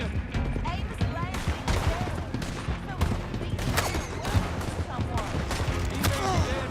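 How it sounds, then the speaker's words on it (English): Gunfire in the Western shooter game Red Dead Online crackles in rapid, overlapping volleys of sharp reports, loud and continuous throughout amid other game effects. "Shoot them when you see them."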